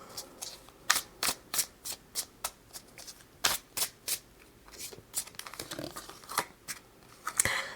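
Oracle cards are shuffled and drawn for a pick-a-card tarot reading, a series of sharp riffling flicks and slaps close by, coming in irregular bursts with a few softer shuffling rustles between them.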